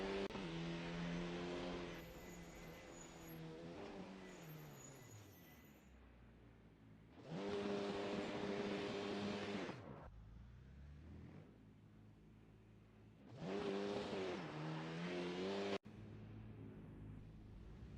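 Polo Supa Cup race cars on a practice out lap at Killarney International Raceway, engines rising and falling as they rev through gears, with loud passes around 7 to 10 seconds and again near 13 to 16 seconds.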